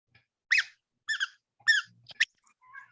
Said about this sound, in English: He put a squeaky toy in her boob.